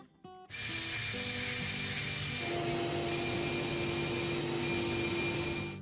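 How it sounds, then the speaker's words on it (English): A high-pitched rotary tool whines steadily as it sands an antler ring, loud and close, with the pitch dipping slightly under load. "just keep on sanding until that core will just slide in just barely"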